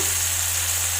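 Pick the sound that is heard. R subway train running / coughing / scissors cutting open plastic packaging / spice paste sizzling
spice paste sizzling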